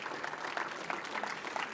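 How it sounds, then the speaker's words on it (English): Faint applause from an audience at a poster presentation event for the presenters, a soft, steady patter of many hands heard at a distance, with no voices. "I would like to hear a round of applause for all the presenters."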